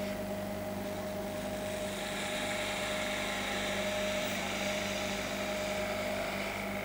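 Wood turning lathe spinning a spindle as a gouge rolls into the cut, giving a continuous steady whine and hum with a rough scraping hiss layered on top, constant and moderately close throughout.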